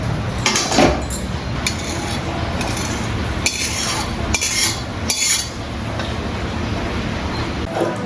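Dry semolina tipped into a wok and stirred, with scattered scraping and clinking of a utensil against the metal pan, some brief louder scrapes among a steady low rustle.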